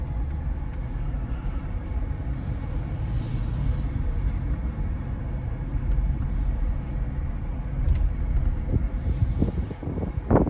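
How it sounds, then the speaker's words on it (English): Steady road rumble and wind buffeting inside a Jeep Wrangler Rubicon JL cruising with the top open, loud and continuous, with a few sharper knocks near the end. "I'm going to drive here with the top open so we can kind of see how much road noise we're going to get from that"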